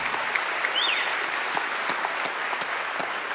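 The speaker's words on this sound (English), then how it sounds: "so round of applause for them" Audience applause at a concert in the Hawaii Theatre, honoring the event's sponsors. It fills the hall as a steady wash of many hands clapping, with a few sharper claps standing out. No talk is heard.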